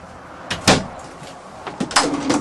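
A slide-out pantry storage cabinet in a Lexington van camper is pulled and pushed, giving two bursts of sliding and knocking with a soft thud, close by.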